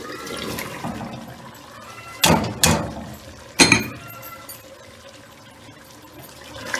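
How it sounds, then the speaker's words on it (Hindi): Large cauliflower florets tossed into a pot of cooked mutton, with two heavy splashy drops and a third clattering thud over a quiet background hiss. "अब हमने इसमें अपनी गोभी को ऐड करना है।"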